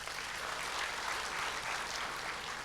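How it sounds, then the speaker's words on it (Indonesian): A congregation applauding during a church service, a brief even wash of clapping at moderate distance with no other sound standing out. "Tepuk tangan Tuhan Yesus."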